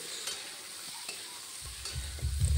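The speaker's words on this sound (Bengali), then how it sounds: "এবার ঢেঁড়সটা ভালোভাবে ওই পেঁয়াজের সাথে মিশিয়ে নেড়ে চেড়ে ভেজে নিতে হবে" Okra stir-fries with onions in a pan, with a quiet sizzle and light scraping stirs, ending in a few heavier knocks of the utensil against the pan.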